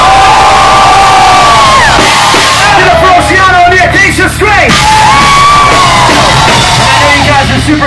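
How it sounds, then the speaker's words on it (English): Loud concert crowd at a metal show in a Birmingham, Alabama club, cheering, whooping and yelling continuously for several seconds, with whistles and shouts rising over a dense roar. "Everybody make some noise for every single band that walked on this stage."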